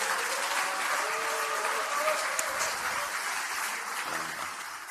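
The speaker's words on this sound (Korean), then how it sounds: "박수 한번 부탁드립니다." Steady applause fills a Democratic Party political meeting in a hall, with a crowd clapping continuously at moderate distance while a voice briefly sounds underneath.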